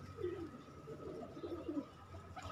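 Pigeons kept by a fancier coo in low, rolling, repeated calls, close and steady, with no voices.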